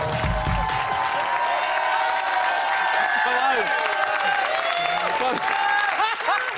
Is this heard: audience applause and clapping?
yes